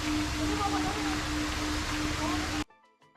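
Steady broadband rush of a waterfall in Chiang Rai, Thailand, loud and continuous, ending abruptly into near silence with faint clatter.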